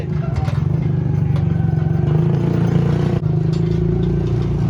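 A rickshaw engine runs steadily and loudly close by, a continuous mid-pitched motor drone with clattering over a rough road, with no pause throughout.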